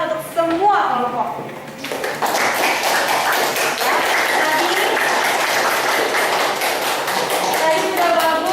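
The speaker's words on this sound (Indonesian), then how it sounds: "Jadi kita berikan tepuk tangan untuk semua kelompok" Students in a classroom clap together for all the presenting groups, a voice talking at first before brisk group clapping takes over and continues steadily to the end.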